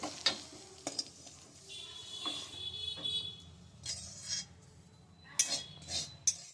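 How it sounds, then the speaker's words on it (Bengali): Metal utensil scraping and clinking against a wok as fried potatoes with cumin are moved onto a plate, a series of short scrapes and taps over a low background hum. "কড়াইয়ের থেকে এটা ঢেলে নিচ্ছে একটা প্লেটের মধ্যে"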